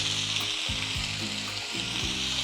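Tomato, ginger, melon seeds and cashews sauté in hot oil with a steady, close sizzle, while a low repeating hum with sliding pitch runs underneath.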